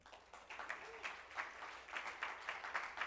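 Audience at a 100th birthday celebration afternoon program cheering and applauding together, a sustained wash of clapping and voices rising and falling in bursts for a few seconds.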